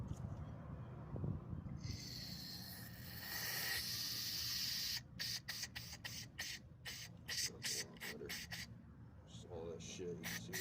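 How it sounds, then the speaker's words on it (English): Cleaner is sprayed into the orifices of a clutch master cylinder: a sustained hiss of about two seconds, then a rapid string of short, sharp spray bursts, close to the microphone. "So we'll just go ahead and spray out these orifices."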